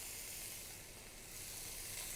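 Onions and garlic frying in a pan give a steady, close crackling sizzle with soft hiss, constant and alone for the whole stretch.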